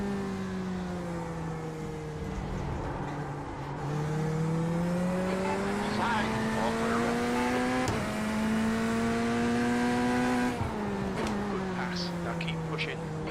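Tire squeal from a race car sliding in a sim racing game, a sustained rising whine with the engine droning beneath, loud and continuous with a brief break midway as the rear end steps out.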